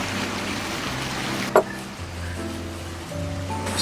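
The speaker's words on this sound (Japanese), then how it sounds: "なんかね、すごい水の音がすごい癒される。" Water in a small fountain at a spa beer garden splashes in a steady, soft wash, with one brief sharper splash partway through.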